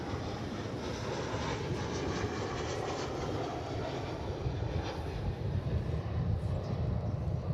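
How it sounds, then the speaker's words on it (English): A fixed-wing airplane passes over the field beside the runways at Dallas/Fort Worth Airport, its steady broadband engine roar holding loud and even throughout, swelling slightly toward the end. "Soaring across the field next to us."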